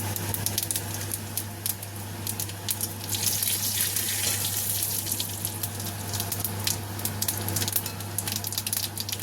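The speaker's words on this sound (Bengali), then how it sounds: "তেলটা গরম হয়ে গেছে, আমি কিছুটা জিরে দিয়ে দিলাম" Whole cumin seeds sizzle in hot oil for a rohu fish curry, a steady close hiss flecked with sharp crackles over a constant low hum.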